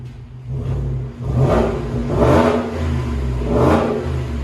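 A 2020 Ford F-150 5.0L V8 with muffler delete and side-exit dual-tip exhaust revs loudly three times in quick succession, each burst rising and falling over a steady low exhaust rumble close by.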